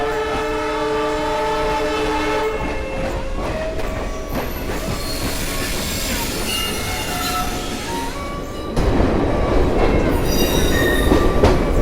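Garib Rath Express train in motion on the Bandra Terminus to Delhi Sarai Rohilla route, a loud continuous rumble of wheels on rails with long tonal horn and squealing lines, growing rougher and louder near the end.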